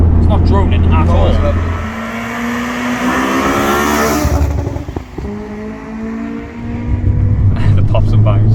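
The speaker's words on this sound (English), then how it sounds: "The pops and bangs, it's like second gear." Honda Civic Type R EP3 cruising at low revs in second gear, its engine note rising and falling under steady talk, with intermittent exhaust pops and bangs as the throttle lifts; the car sounds close and fairly loud.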